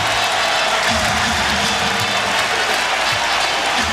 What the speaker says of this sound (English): Crowd getting on its feet